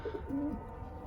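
A racing pigeon of Gerard Koopman line gives a short, close coo, a soft low burble lasting about a second against faint background noise.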